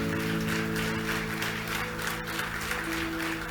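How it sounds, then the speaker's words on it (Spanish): A church congregation at a Sunday service claps together, a dense sustained applause filling the whole stretch at fairly close range, with a soft hum of voices underneath. "Dale un aplauso al Señor."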